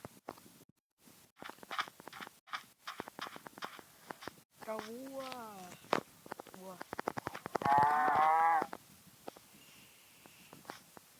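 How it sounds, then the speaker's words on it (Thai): Cows in a video game moo twice, one low drawn-out call and then a louder higher one, amid footstep-like clicks and tapping. "โอ้เจอวัวอีกแล้ว"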